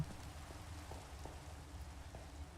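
Steady rain falls in a Minecraft world, a soft, even hiss heard alone at low volume with faint scattered drop taps.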